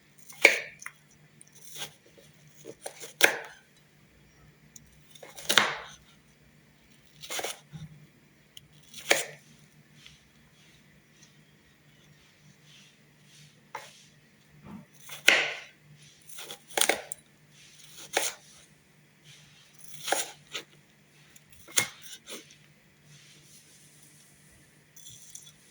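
Beef is chopped into cubes for a stew, with a series of sharp, irregular knife strikes on a cutting board, close and fairly loud against a quiet background with a faint hum.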